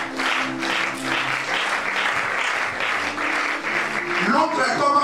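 A church congregation claps loudly and continuously, a dense sustained wash of applause with voices singing or calling out within it.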